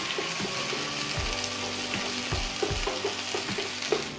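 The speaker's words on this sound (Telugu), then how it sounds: "నీసు వాసన రాకుండా కొంచెం వేసుకొని దీన్ని పచ్చి వాసన పోయే వరకు వేపుకోవాలండి" Ginger garlic paste fries in a pan as the first step of an onionless egg fry, a steady close sizzle with repeated scrapes and knocks from stirring, and no talk.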